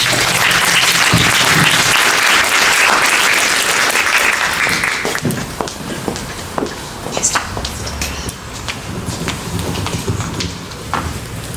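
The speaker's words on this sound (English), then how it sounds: "Please join me in giving a big round of applause" An audience at a high school career counselling event bursts into loud, dense applause to welcome a speaker, the clapping thinning out into scattered claps and footsteps after about five seconds.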